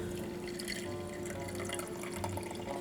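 About four ounces of water poured into a mason jar while making an iced drink with cream: a brief, soft trickling and splashing stream of liquid, quiet and close.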